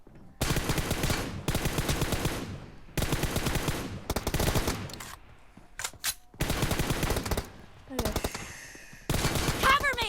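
Automatic gunfire in the mobile battle royale game PUBG Mobile, played on an iPad, comes in long loud sustained bursts separated by short pauses, with a few single shots and brief bits of other game sound between bursts.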